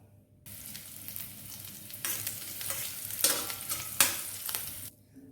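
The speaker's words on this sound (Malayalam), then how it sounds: "നമുക്ക് ഈ തേങ്ങാക്കൊത്തും റേസിൻസും കാഷ്യൂനട്ടും ഒക്കെ ഒന്ന് വറുത്തെടുക്കാം" Coconut pieces, raisins and cashews fry in ghee with a steady sizzle, occasional stirring scrapes and clatters, continuous and fairly close, no talking.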